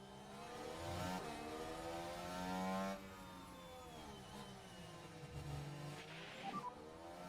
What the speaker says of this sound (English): I've got the overtake done on Russell.